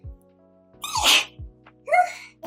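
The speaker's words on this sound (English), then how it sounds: "Wait, I need to sneeze." A single sneeze bursts out close to the microphone, a sharp breathy blast followed by a short voiced trailing sound, amid faint low thumps.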